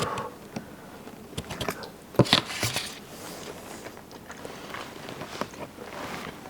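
Someone bites into and chews hot, creamy tortellini eaten straight from the pot, giving a handful of close, soft wet crunches and smacks over a quiet kitchen background.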